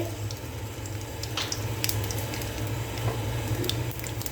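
A constant crackling sizzle of mustard seeds popping in a ladle of hot oil, with scattered sharper pops over a low steady hiss.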